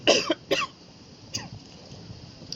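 Two sharp coughs close together, then a fainter third cough a moment later, close to the listener with quiet room noise between.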